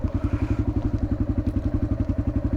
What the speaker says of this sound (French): c'est Tom qui monte la moto